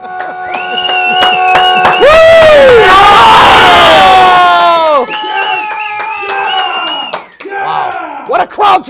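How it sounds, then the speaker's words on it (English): A studio audience at a live Monday night show cheers, whoops and claps loudly, the roar swelling for several seconds before easing into scattered shouts and claps. "What a crowd tonight!"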